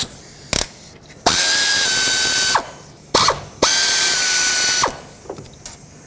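Two bursts of a ratchet wrench spinning out 10mm throttle body bolts on a 2007-2009 Saturn Aura, each a rapid clicking whir lasting over a second, close and fairly loud with short pauses between.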